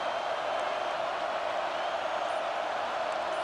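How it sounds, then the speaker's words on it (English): Loud stadium crowd at a football game, a steady, dense roar of many voices holding constant without breaks, as fans make noise while the opposing offense lines up. "Listen to this crowd just shaking the girders of this place"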